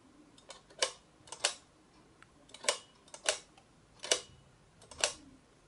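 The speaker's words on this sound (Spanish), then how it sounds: "Al levantar este marco se podía accionar el obturador." Antique camera shutter mechanism worked by lifting a frame, giving a series of sharp mechanical clicks and snaps spaced about every half second to second, close and distinct against quiet.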